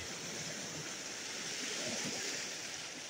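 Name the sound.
sea waves on the shore at Jeju Island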